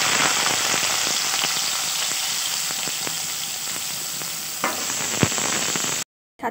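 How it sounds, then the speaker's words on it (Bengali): Carrots, beets and other vegetables frying for veg chowmein, a loud, steady, dense sizzle with a few faint stirring taps, running unbroken until it cuts off near the end. "তো আমি সব সবজিগুলো ভেজে নিই আগে"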